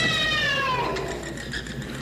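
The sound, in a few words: black cat meowing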